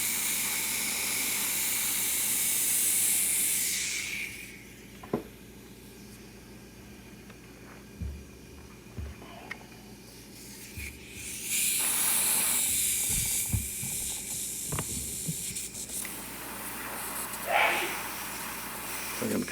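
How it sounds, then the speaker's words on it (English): Airbrush hissing as paint is sprayed upward onto an Aquaman figure, with a strong steady spray at the start and again midway, separated by quieter gaps holding small clicks and taps. "So I'm spraying up like this, so that any overspray I got won't hit the top side."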